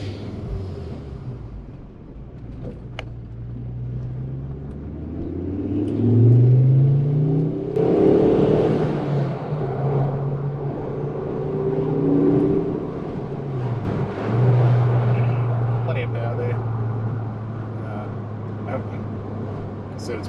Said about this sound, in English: they're a performance five-cylinder turbo, and but nonetheless, they go pretty good